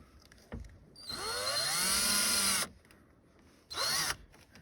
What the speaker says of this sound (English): we're going to get our first screw and put it through there.